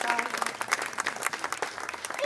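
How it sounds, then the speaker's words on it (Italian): An audience at a book presentation breaks into brief, lively applause for the authors, a dense burst of clapping that carries on for a couple of seconds. "Applauso alle nostre autrici."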